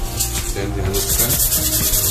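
Abrasive sanding rubs over a Yamaha MAXI motorcycle helmet to smooth it before a matte red repaint, a close, steady scratchy scrubbing with rhythmic back-and-forth strokes and no talk.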